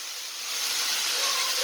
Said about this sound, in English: I'm just frying up some hamburger.